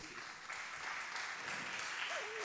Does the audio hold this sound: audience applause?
yes